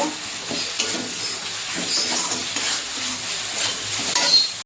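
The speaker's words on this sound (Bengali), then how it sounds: "মশলাটা ভালো করে কষিয়ে নেব" Masala with turmeric and Kashmiri chili powder fries for chicken, a close, fairly loud continuous sizzle with soft stirring scrapes and light clinks of a utensil against the pan, no one speaking.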